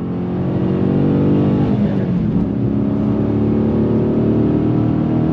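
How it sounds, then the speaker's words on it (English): The V8 engine of a Dodge Challenger Scat Pack roars close and loud in a sustained, rumbling drone, briefly dipping before holding steady again. "Love the sound of that V8."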